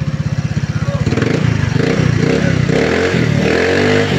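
A Motorstar Easyride 150rs motorcycle engine with a modified three-phase regulator idles close and loud with an even, steady putter that thickens into a rougher rumble partway through.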